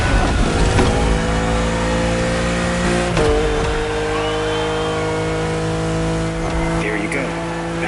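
A BMW M4 Liberty Walk Edition engine in The Crew Motorfest racing game revs hard and holds a loud, steady drone, with a gear change around the middle and the pitch settling afterward.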